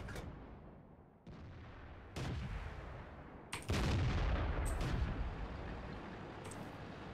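Artillery fire in World of Tanks: several heavy booming shots at intervals, each with a broad blast and a lingering rumble, mid-distance and fairly loud over a continuous battle din.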